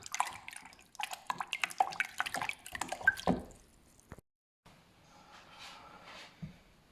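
Yeast is stirred into lukewarm water for bread dough, giving close wet drips, splashes and squishy stirring in quick bursts. After a short silence a softer liquid swirl follows.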